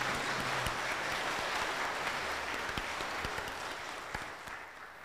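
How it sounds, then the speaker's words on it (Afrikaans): A church congregation claps hands during a Sunday service welcoming new confessing members, a dense, continuous patter of applause from many people at moderate distance. "Wil julle eens vir my vir hulle hande klap hê?"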